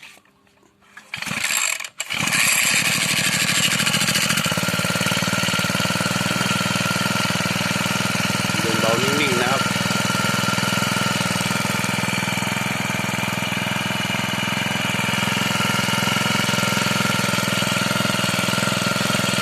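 A cheap copy-model four-stroke brush cutter engine catches after a few short starting clatters, then settles into a steady, close mechanical running drone with rattling internal parts.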